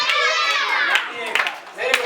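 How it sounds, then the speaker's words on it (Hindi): Children in a classroom clapping hands, a scattered burst of claps mixed with young voices and crowd chatter, close and lively. "ताली बजाओ इनके लिए"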